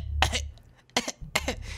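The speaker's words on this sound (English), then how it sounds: "He's coughing like a little kid." A character in the horror game Fear & Hunger coughs three times in quick, harsh bursts, close and clear over a low game hum.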